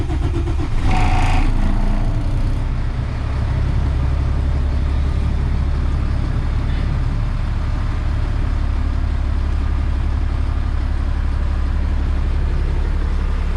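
Diesel engine of a 2005 Sterling tandem-axle side-load garbage truck cranks and settles into a loud, steady low rumbling idle at an auction lot.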